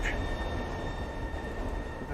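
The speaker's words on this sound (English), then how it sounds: "that train went past" A train rolls past, a low, steady rumble at moderate distance lasting the whole moment, with a faint voice at the very start.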